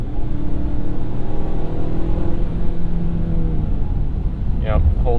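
A 2022 Ford Maverick with the 2.0L engine accelerating in sport mode and holding gears, a loud steady engine drone rising in pitch from inside the cabin, with talking over it.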